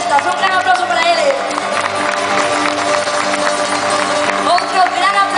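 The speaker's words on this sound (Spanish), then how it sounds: "Un gran aplauso para eles." A festival crowd at an outdoor town fiesta concert claps and cheers steadily, a dense, loud wash of applause with a voice speaking over it at moments.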